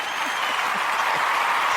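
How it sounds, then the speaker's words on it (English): Applause played as a sound effect during a produced show, a dense, steady burst of many hands clapping, loud and continuous with no voices. "I just made some clapping noise for you."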